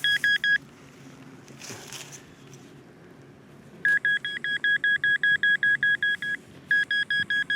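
A metal detector pinpointer beeps over a freshly cut plug of soil: one short burst, a pause, then a fast run of rapid, evenly spaced beeps, loud and close.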